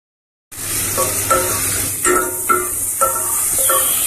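Onion sautés in olive oil with a bright steady sizzle that starts abruptly after a moment of silence. Repeated rhythmic scrapes and clinks of a spoon stirring against the pan sound close and clear over the frying.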